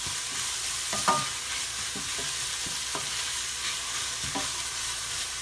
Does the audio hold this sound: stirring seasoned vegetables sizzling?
yes